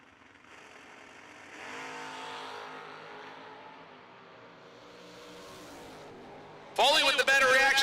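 At a drag strip, an S10 pickup truck races down the track, its engine a steady rising drone carried under a continuous announcer's commentary, ending in a sudden loud burst of crowd or track noise.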